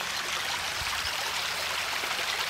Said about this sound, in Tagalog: Ayan, ilog na.